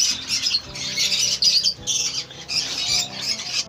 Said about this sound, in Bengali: আবার পায়রা, এগুলো কতগুলো পায়রা